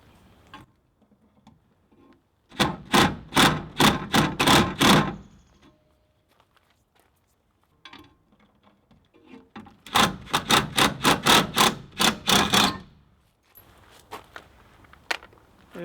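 Someone chiseling out the last screw holding a school bus stop sign, heard as two bursts of rapid, sharp, evenly spaced metallic taps separated by quiet gaps, with fainter tapping at the end.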